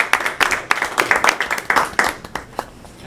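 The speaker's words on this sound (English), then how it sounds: "Let's give him a big round of applause." At a Rotary Club meeting, a small group gives a round of applause, a few distinct, uneven claps rising and thinning out close by.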